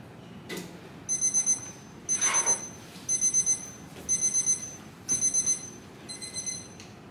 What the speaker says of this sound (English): we will have the alarm from the timer, and then that says time's up